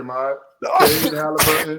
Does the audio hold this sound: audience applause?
no